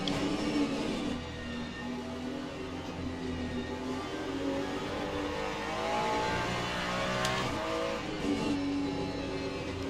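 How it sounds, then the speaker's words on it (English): Le Mans Ultimate hypercar racing at Spa, its engine a steady close roar with shifting pitch as it accelerates and changes gear, alongside other cars droning past, no voices heard. "We also have another hypercar coming up that has pitted."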